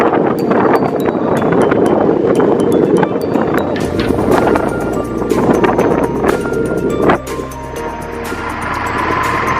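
Seetharkund waterfall in Palakkad produces a loud, steady broadband rush of falling water, mixed with gusty wind buffeting the microphone and a few sharp knocks, with no voices.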